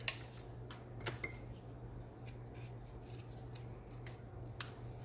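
Scissors snip ribbon while trimming it on a paper craft card, giving a few soft, close cuts and light rustles over a quiet room hum, with no talk.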